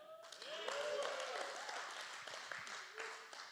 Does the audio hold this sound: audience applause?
yes